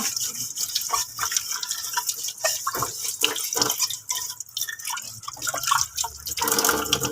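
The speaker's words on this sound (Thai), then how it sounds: "ต่อไปก็จะล้างตัวถ้วย ล้างด้านนอกด้านในมือจับด้วยนะคะ ล้างให้สะอาดเลยค่ะ" A feeding cup used for tube feeding is washed under running tap water, with splashing, dripping and rubbing inside and out, close and continuous without speech.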